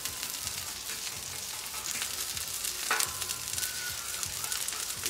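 Regular onions fry on a Royal Gourmet 36-inch flat top grill, a steady, soft hiss of sizzling heard close up with occasional light scrapes of a spatula.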